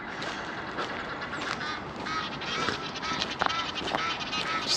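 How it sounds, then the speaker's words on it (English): Geese honk repeatedly beside an Amsterdam canal, a busy overlapping chorus of calls over steady outdoor background noise, with no speech. "Just hear geese"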